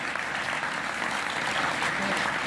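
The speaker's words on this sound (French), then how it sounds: "vous pouvez l'applaudir." A crowd at a political rally in Yvelines, France, gives sustained, dense applause: a steady, even roar of clapping that holds at full strength throughout.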